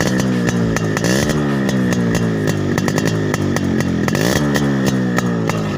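A modified Yamaha RX-Z two-stroke motorcycle engine revs loud and close, its buzzing note rising and falling in repeated throttle blips over a steady idle.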